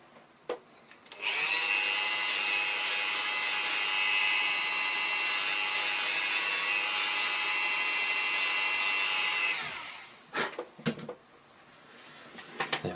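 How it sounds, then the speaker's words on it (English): A small power sander grinds tiny pips flat off the back of a printed model locomotive wheel, a loud steady whine lasting about eight seconds, then stopping, followed by a few handling knocks. "I'm just going to sand those off with a little mechanical assistance."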